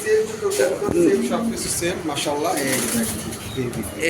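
Soft male pigeon coos repeat close by, partly buried under someone talking steadily throughout.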